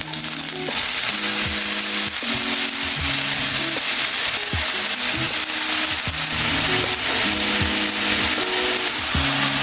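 Chopped banana flower frying in a pan: loud, continuous sizzling with repeated scraping and stirring strokes, close and steady throughout.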